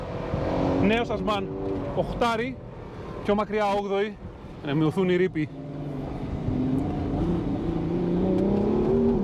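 Ferrari 12Cilindri V12 on a road test, revving hard with quick gear changes. The engine note breaks off and rises again in several sharp bursts, heard under someone talking, and the car then settles into a steady rising drone.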